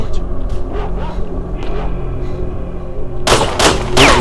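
Loud bursts of gunfire in the S.T.A.L.K.E.R. shooter game crack out near the end over a low rumbling ambience, following quieter distant shots earlier.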